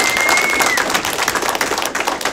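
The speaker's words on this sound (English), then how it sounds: "Amy Stamper, let's all give her a round of applause" A crowd applauding, dense steady clapping from many hands with a brief high tone near the start, continuing throughout.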